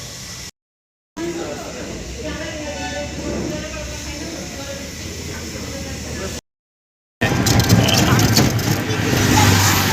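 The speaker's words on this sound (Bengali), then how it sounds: "ট্রেন যাচ্ছে, ট্রেন" A train passes along a rural Bengal roadside stop near Rampurhat, its loud continuous rumble and wheel noise swelling close by, broken by two short gaps, with traffic-like roar dominating the last stretch.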